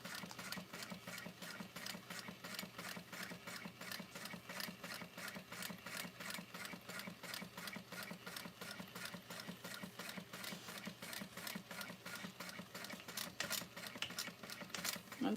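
A sewing machine runs steadily and slowly, stitching around the circular edge of a vanity bag, with a continuous even needle rhythm and no talking.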